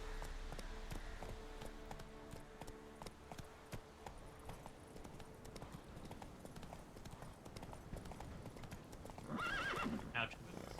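In The Witcher 3, a horse's hooves clip-clop in a quick galloping rhythm, faint and low in level, and a short neigh rises near the end.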